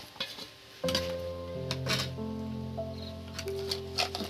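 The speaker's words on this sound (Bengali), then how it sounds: "আর কয়েকটা লবঙ্গ আর একটা তেজপাতা এই তেলের মধ্যে আমি দিয়ে দিতে দেব" Cloves and a bay leaf go into hot oil in a pan for potato curry, giving a soft, steady sizzle with utensil clinks and stirring, plus sustained tonal ringing over the frying.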